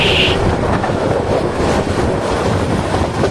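Loud, steady rumble of a Bangladesh Railway train passing through a station near Hatubhanga, heard from close by at the train door, with rattling and rhythmic clatter from the wheels.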